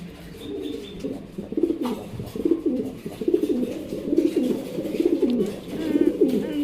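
Fancy racer pigeons cooing in a breeding loft, a close, repeated series of soft throaty coos in rhythmic phrases.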